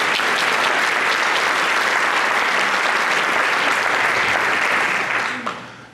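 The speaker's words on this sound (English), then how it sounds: "So help me give Tom a round of applause." A room full of guests applauds a bank sponsor at a high school honor student breakfast, with dense, even clapping that holds steady for several seconds before tapering off at the end.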